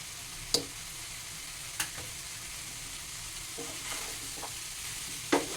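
Ridge gourd fries with tomato, boiled potato and stalks for a kachki fish chorchori, a quiet, low sizzle with a few sharp spatula knocks against the pan spaced a second or more apart.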